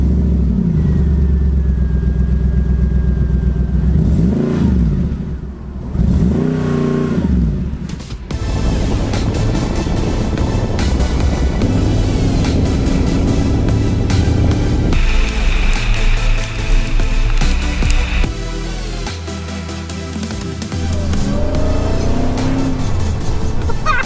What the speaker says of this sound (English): there's your engine start button